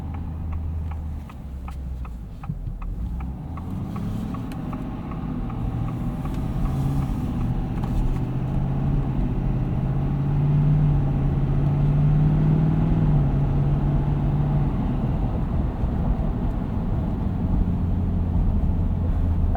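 A 2023 Ford F-250 King Ranch Super Duty crew cab with the high-output 6.7L Power Stroke V8 diesel, driven on the road, giving a steady low engine hum and road whoosh from inside the cab that swells slightly as it accelerates.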